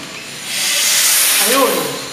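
Nitrogen and 141B are blown through a refrigerator condenser, a strong hissing rush of gas that swells after a moment and holds loudly for the rest of the short burst.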